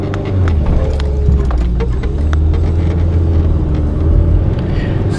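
Car driving on the way to band practice, a loud, steady low engine and road rumble heard from inside the cabin with faint ticks and rattles.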